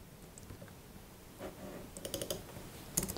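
Computer keyboard keys tapped in short quick bursts of clicks, fairly close and moderately quiet, with no voice.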